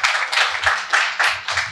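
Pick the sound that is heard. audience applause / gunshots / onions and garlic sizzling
audience applause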